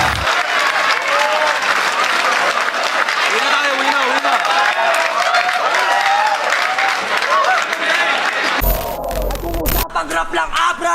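Crowd at a FlipTop rap battle applauding and cheering loudly and continuously, a dense wash of clapping and shouts, with a brief burst of louder noise near the end.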